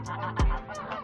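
Goose honking close by, one loud nasal honk in the middle with softer squawks around it.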